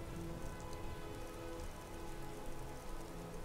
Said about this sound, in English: Strong rain.